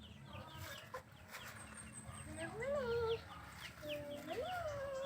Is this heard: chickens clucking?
yes